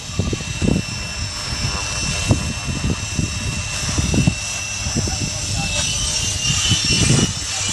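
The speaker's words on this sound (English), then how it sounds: "This helicopter was flying okay before it spirals uncontrollably and then crashes hard into ground" An RC helicopter whines in flight, spirals out of control and crashes hard into the ground. A steady high rotor and motor drone runs throughout, broken by several sharp thumps and bursts of noise, with voices over it.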